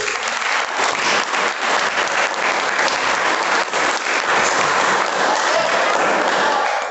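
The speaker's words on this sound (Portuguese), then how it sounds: "Palmas para Jesus" Steady, dense applause from a church congregation, loud and sustained throughout with no pauses.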